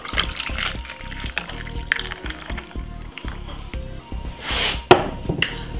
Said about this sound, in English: I got a glass with some ice and I'm gonna pour it in like this.